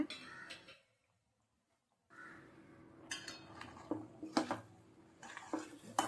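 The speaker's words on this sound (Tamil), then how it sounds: "நல்லா கிளறி விட்டு நல்லா வேக வச்சுக்கோங்க" Metal spoon scrapes and clinks around a pot of simmering milk-based dish in short bursts, with a quiet simmer underneath and a brief silent gap.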